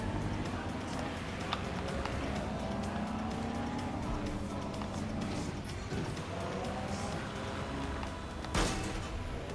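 A car driving and drifting in Watch Dogs: Legion, a steady engine drone with faint tire noise running throughout at moderate level, with a brief louder burst near the end.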